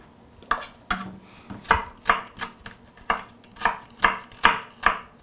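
A knife chops shallot very finely on a board, a quick steady series of about a dozen crisp close taps with no talking.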